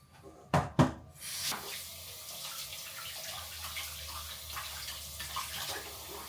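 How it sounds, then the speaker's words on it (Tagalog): Boiled pork pieces are rinsed under a running tap in a kitchen sink, a steady wash of water following a couple of sharp knocks at the start, with no talking. "Ito na guys yung ating pinakulaang baboy and huhugasan ko naman siya."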